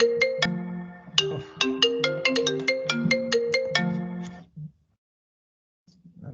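A phone ringtone playing through a connected MacBook, a bright melodic run of chiming notes for about four seconds that cuts off abruptly into near silence.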